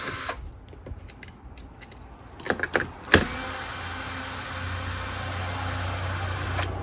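A power tool, likely a drill or driver, backs bolts off a Mortal Kombat 4 arcade cabinet control panel: a few clicks and handling knocks, then a loud continuous motor whir that runs steadily to the end.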